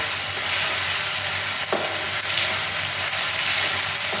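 A ground spice paste for Bengali egg curry (dimer dalna) fries in a pan with a constant loud sizzle, broken by a couple of brief scrapes from stirring.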